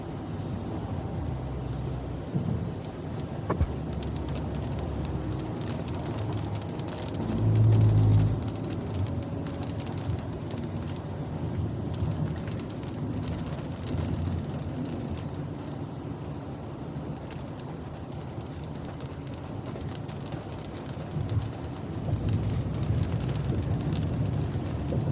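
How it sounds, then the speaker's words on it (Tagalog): Heavy typhoon rain pours onto a highway road, a steady dense wash of hiss and drumming with low road and wind rumble throughout, a passing car swelling briefly; no talk. "Malakas yung ulan."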